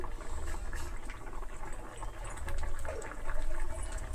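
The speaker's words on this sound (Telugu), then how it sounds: "ఈ దోసకాయ ముక్కలు పూర్తిగా ఉడికే వరకు ఉడికించుకుందాం" Cucumber pieces and moong dal simmer in a pot, giving a soft continuous bubbling with small pops and gurgles, close and moderately quiet with no talk.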